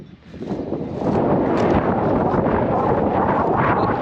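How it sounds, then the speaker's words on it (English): Strong gusts of wind blow across a farm, buffeting the microphone in a loud, continuous roar that swells after the first second and stays heavy. "it's super windy"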